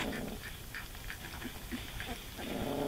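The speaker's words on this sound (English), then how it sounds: "that's Piper growling in the background" A Golden Retriever growls low in the background among three-week-old puppies, a soft, rumbling undertone with faint whimper-like and squeaky sounds scattered over steady room noise for a few seconds, no speech.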